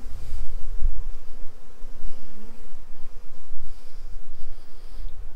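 Honeybees swarm around their hives amid guard activity and possible robbing, a dense, continuous close-up buzz that rises and falls slightly throughout.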